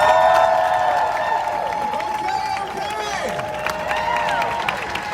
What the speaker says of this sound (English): it's been a long time since I've received entrance applause.